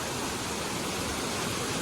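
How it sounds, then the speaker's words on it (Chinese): At Pearl Shoal in Jiuzhaigou, water pours over a large waterfall with a steady, dense roar that fills the whole scene and holds even throughout. "珍珠滩的水从这里流下去，形成一个大的瀑布。"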